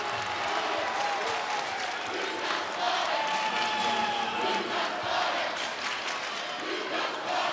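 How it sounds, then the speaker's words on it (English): Mount Vernon fans cheering and shouting in a gym at a high school AAA state tournament quarterfinal basketball game, a sustained loud crowd roar over the full stretch with a commentator talking beneath it. "Crowd getting into it from Mount Vernon as they travel in good numbers."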